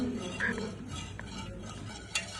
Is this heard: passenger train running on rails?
no